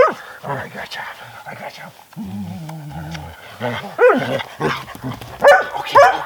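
An excited, muddy puppy out in the wilderness barks in short yips and whimpers in bursts, loud and close, with a person talking over and between the sounds.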